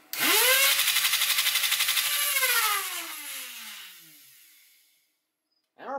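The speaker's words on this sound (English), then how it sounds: "And our pusher works, so we're good to go." Motorized pusher of a full-auto Rayven foam blaster cycling, a rapid buzzing whir with fast mechanical rattle that winds down and fades, then a brief second burst at the end.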